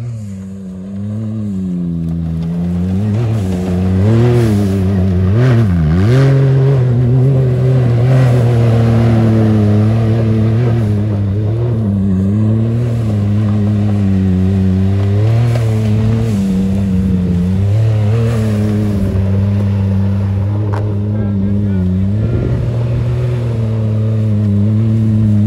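A car drives fast and accelerates hard. The engine whines loudly and climbs and drops in pitch as it revs, heard up close and continuously for the whole stretch, with no talking.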